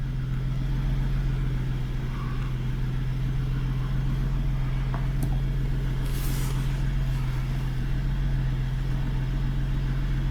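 A 2017 Ford F-150 engine idles cold at a steady low rumble of about 800 RPM, even and continuous throughout, with a brief faint hiss partway through and no talking.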